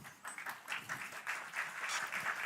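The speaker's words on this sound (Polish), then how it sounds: "Gorące brawa dla niego." A conference audience gives a speaker a warm round of applause, a fairly quiet, steady patter of many hands clapping for a couple of seconds.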